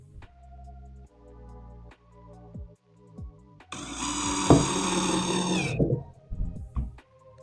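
A power drill whines in short bursts, then a loud sustained buzzing run of several seconds as a small number 6 screw is driven into wood without pre-drilling, close by.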